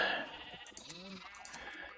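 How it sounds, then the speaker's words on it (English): Sheep in the Minecraft video game bleat while being sheared, a few short wavering game-sound bleats heard close and clear over a faint background of ambient noise. "Let's shear some sheep."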